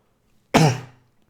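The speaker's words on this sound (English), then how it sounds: "And it's just dry coughing." A single dry cough, short and close, with a sharp onset that quickly fades into silence.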